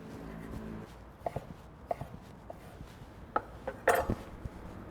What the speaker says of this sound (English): So now that it's sliced thin, we're just gonna dice it up.